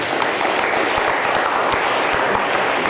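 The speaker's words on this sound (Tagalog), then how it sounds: "Pumalakpak nga sa Panginoon" A congregation at a Sunday church service applauds steadily, with dense, sustained clapping filling the room from start to finish.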